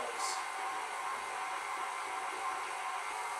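An electric mixer whisking meringue for a banana meringue pie, a steady, fairly quiet whirring drone that runs unbroken and close by, with no speech over it.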